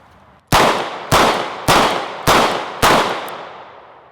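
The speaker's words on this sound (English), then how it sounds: "Five rounds of .38 special." A J-frame revolver fires five rounds of .38 Special in steady succession, each shot a sharp, loud crack with a short decaying tail, roughly half a second apart.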